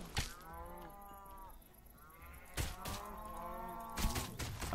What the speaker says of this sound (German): Ach, hört auf, hier rum zu moon